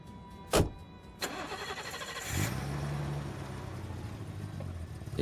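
A big BMW car's engine turns over after a couple of sharp clicks and settles into a steady, moderately loud idle hum, heard alone in a car park at a train station.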